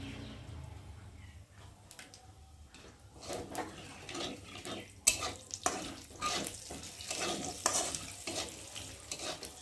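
Black cumin seeds sizzling in hot oil, a quiet crackling with spoon scrapes and stirring clatter that grows busier in the second half, no talking.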